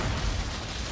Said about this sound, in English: Bunch of explosions there.